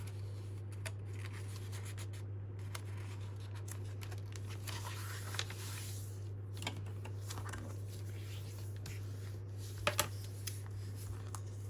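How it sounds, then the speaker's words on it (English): Paper is creased and folded in half for a handmade Christmas shaker card, with soft rubbing, scraping and a few sharp taps over a steady low electrical hum, close by and without talk. "So I'm just going to try and fold them as neatly as I can"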